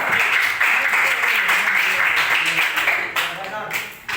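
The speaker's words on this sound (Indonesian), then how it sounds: "Tepuk tangan buat Ustaz." Students at a boarding-school leadership program presentation clap for their teacher, a steady wash of applause that fills the room, with a voice talking over it near the end.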